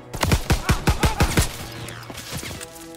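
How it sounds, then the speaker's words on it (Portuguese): Rapid automatic gunfire in the World War II shooter Call of Duty WW2, about eight loud sharp shots in quick rhythm, followed by a fading tail of weaker noise. "Tô tomando tiro de absolutamente todos os lugares."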